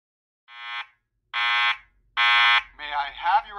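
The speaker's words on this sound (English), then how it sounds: "There has been a fire alarm reported in the building." A building fire alarm during a system test gives three loud, steady electronic tones, each about half a second long, then a voice announcement starts over the alarm.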